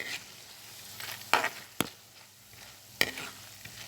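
Boondi batter frying in hot oil, with a steady soft sizzle and a few sharp clatters and stirring knocks from a ladle against the pan.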